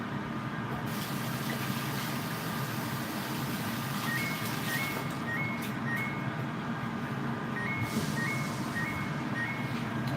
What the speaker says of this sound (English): That's the stove saying your rice is ready